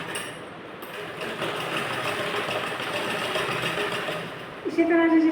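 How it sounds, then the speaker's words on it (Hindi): A sewing machine stitching a blouse shoulder seam, a steady mechanical whir that runs throughout, growing a little louder toward the end. "अब हम यहाँ से एक लाइन लगाएंगे। देखिए यहाँ से स्टिच करेंगे।"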